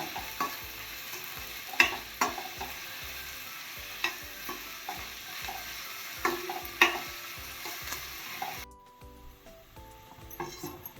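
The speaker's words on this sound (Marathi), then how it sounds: "कांदा तळून झाला आहे, लालसर रंगावर झाला आहे तो." Half an onion fries until reddish-brown for mutton Lucknowi, a soft steady sizzle under repeated scraping strokes of a spoon stirring in the pan, fairly quiet and close.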